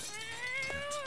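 A cat in the video game South Park: The Fractured But Whole gives a single drawn-out meow, close and clear, lasting about a second.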